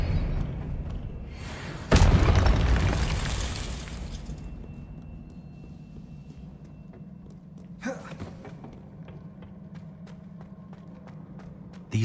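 A Confringo fire spell bursts in Hogwarts Legacy, a sudden loud explosive crack that rumbles and fades over a couple of seconds, followed by quieter game ambience with scattered small impacts and another faint burst later.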